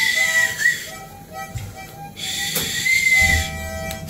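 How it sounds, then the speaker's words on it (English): A high, thin whistle sounds in a few short blasts, with rustling and faint background noise between them. "It's a whistle."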